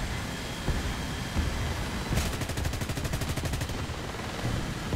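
Anti-aircraft flak guns firing in the War Thunder video game, rapid rhythmic bursts of shots over a rumbling battlefield background, with a dense fast-repeating stretch in the middle.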